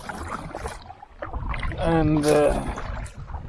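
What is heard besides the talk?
paddling a kayak or canoe on water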